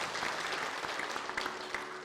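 Church congregation applauding during a Sunday worship service, a soft, even patter of many hands heard from a distance for about two seconds.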